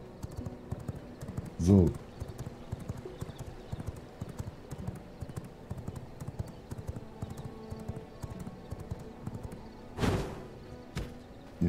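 Horse hooves clip-clop in the V Rising video game, one sharp burst of steps near 2 seconds and another near 10 seconds, set against a steady low game backdrop with soft clicking throughout.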